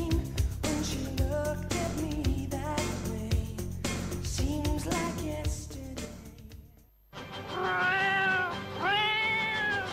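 A kitten meows repeatedly as a sound effect in a radio jingle, its high plaintive cries heard over music and then clearer and louder near the end.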